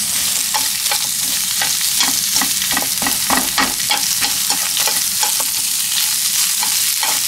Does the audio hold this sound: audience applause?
no